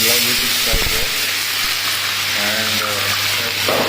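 Green beans sizzle and hiss loudly in hot oil in an Indian-style pan, a dense steady frying crackle close up with faint talk underneath.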